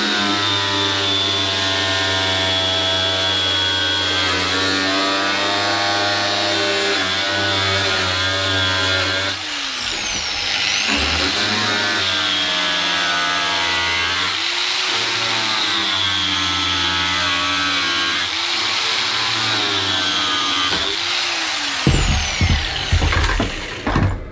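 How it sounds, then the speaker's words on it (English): Angle grinder running at low speed while cutting a plastic wheel well liner for a Jeep Cherokee XJ, a loud steady motor whine with harmonic drone that dips and recovers as the disc bites, ending in a few sharp bursts. "So using the grinder on a pretty low speed like that just stops it burning so hot"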